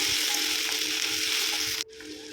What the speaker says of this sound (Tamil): நல்லா ஒரு 10 மினிட்ஸ் இல்லை 5 மினிட்ஸ் வதக்குனிங்கன்னா ப்ரௌனிஷ் கலரில் மாறிடும்